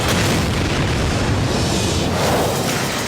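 A meteor detonating high in the atmosphere, a loud, sustained roaring boom with rumbling low end and no pause.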